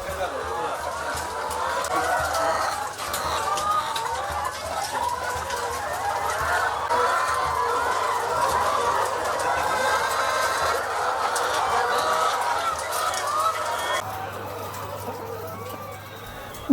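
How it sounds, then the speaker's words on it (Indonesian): A flock of laying hens on a poultry farm clucking continuously as they eat scattered feed together, a dense layered chorus of overlapping clucks and murmurs at close range with a low hum beneath; a person speaks over it. "Ayam-ayam ini secara serentak makan pakan yang diberikan."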